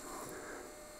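A new electric pump running close by, giving a steady, loud humming buzz that stays even and alone for about a second.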